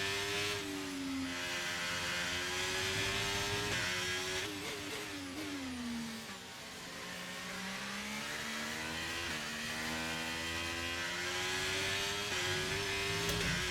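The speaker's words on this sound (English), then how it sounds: "I like the V8 F1 cars. They sound the best." High-pitched V8 Formula 1 racing engines in a video game wail continuously, pitch rising and falling as they rev through gears, loud and steady throughout.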